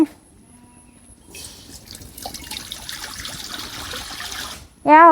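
Water pours steadily into a metal cooking pan (kadai) for a few seconds after a quiet start, ending with a brief loud clatter.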